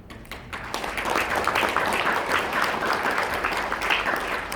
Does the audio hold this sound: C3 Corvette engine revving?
no